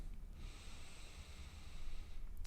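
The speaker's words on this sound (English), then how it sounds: "we'll take about 10 deep breaths here" One long, slow, hissing breath drawn close to the mic during a yoga pose, steady for about a second and a half before easing off, with no talk.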